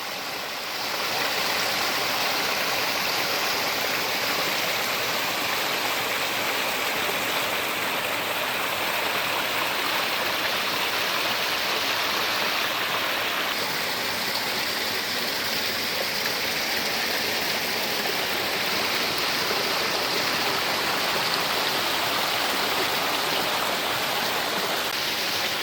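A clear mountain stream rushes at Jata Shankar on Girnar, a steady, full-bodied roar of flowing water that stays close and unbroken for the whole stretch with no talk.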